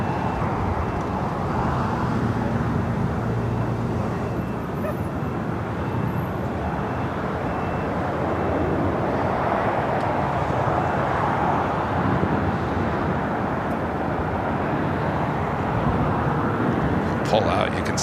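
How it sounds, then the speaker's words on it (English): A Delta 767-300ER jet airliner bound for JFK takes off on the north side at LAX, heard as a broad, steady distant roar mixed with wind and airport rumble. "We have a flight heading to JFK, taking off there on the north side."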